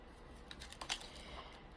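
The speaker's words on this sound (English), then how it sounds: "So it's telling me to shuffle some more." Oracle cards are shuffled in quiet, soft flicking and riffling bursts, faint and close, with a few sharper card snaps in the middle against a low room hiss.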